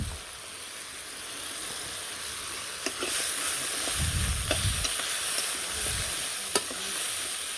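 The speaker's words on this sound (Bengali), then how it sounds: "আমি একটু কষিয়ে নিই সব কিছু দিয়ে" Potatoes fry in a pan with salt, turmeric, chili and Kashmiri chili powder and a splash of water, sizzling steadily. Bursts of scraping stir the mixture, with a few sharp clicks of a utensil on the pan.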